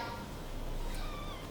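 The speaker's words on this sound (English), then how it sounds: "did you hear that meow?" A house cat gives a short, faint meow, heard alone in an otherwise quiet room.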